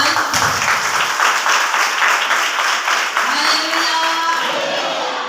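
A congregation claps together at a Sunday worship service in Bethel prayer hall, Velanka: dense, loud applause that holds steady for the whole stretch, with a few voices mixed in.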